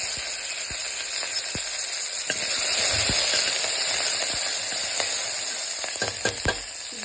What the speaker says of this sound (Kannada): ಈರುಳ್ಳಿ ಕರಿಬೇವು ಹಾಕ್ತಾ ಇದ್ದೀನಿ. ಎಲ್ಲ ಸ್ವಲ್ಪ ತಿರುಗಿಸ್ತೀವಿ.